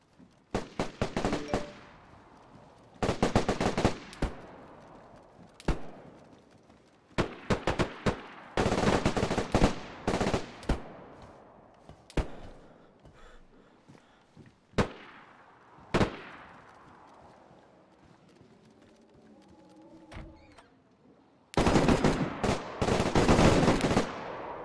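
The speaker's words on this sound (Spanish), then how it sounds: "¡Nos disparan!" Bursts of automatic gunfire and single shots in a roleplay shooter game, loud and close, arriving in irregular clusters with brief quiet gaps and a final sustained volley.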